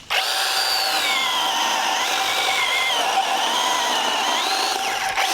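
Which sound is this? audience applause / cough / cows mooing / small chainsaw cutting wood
small chainsaw cutting wood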